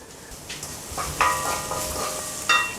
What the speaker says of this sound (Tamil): இந்த இடித்ததை எண்ணெயிலே நல்லா வதக்கிக்கோங்க